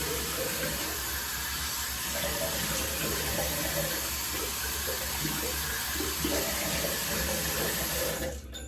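Water runs steadily from a sink tap while a razor is rinsed between shaving passes, a continuous broadband splash and hiss with small fluctuations, cutting off abruptly at the end.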